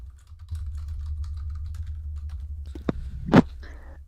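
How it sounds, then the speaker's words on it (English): Short bursts of light key clicks from typing on a computer keyboard, quiet and close over a low steady hum, followed by a couple of louder distinct taps near the end, with no talking. "I stop talking because I'm typing because I can't do the two things at once"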